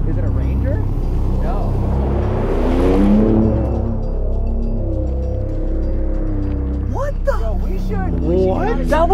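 A Ford Raptor pickup truck drives past close by at night, its engine rumble swelling and then fading away, while several people talk excitedly over it.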